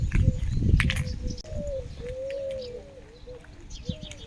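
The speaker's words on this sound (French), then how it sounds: "il y a beaucoup de tourterelles aussi" Turtle doves coo in a rural setting, a soft repeated call at moderate distance following a brief burst of rustling noise, with no one speaking.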